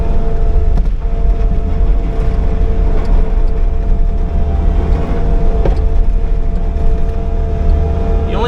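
A Bobcat T595 skid steer with a pusher box plows snow in a parking lot, its engine droning steadily and loudly throughout with a few faint clanks.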